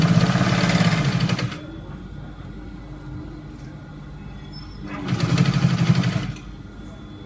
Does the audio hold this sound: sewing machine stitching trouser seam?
yes